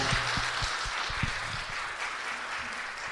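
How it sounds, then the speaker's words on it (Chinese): Congregation applauding during a church Sunday worship service, a steady wash of many hands clapping together that fills the whole moment, with no voices rising above it. "拍手把荣耀归给我们的神"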